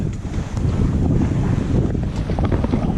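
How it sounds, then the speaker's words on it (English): Steady breeze rushing across the microphone aboard a sailboat heading from Dana Point toward Avalon on Catalina Island, loud and continuous buffeting with no voices. "Nice little breeze coming up."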